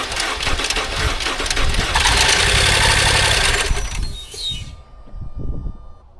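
A BMW X5M V8 with no compression and the fuel pump fuse pulled cranks and catches, running rough and loud for about four seconds before cutting out, leaving uneven lower mechanical rumbling.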